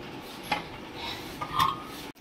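An appe pan being handled in a home kitchen, with a couple of light metallic clinks and a scrape over a quiet background, then a brief drop to near silence.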